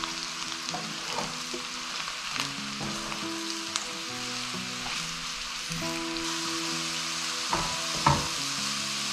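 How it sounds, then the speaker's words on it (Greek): Mushrooms sauté in a pan with a steady, close sizzle and occasional light stirring clicks, along with faint kitchen background tones; no talking. "τώρα θα βάλουμε και τα μανιτάρια μας να σοταριστούν"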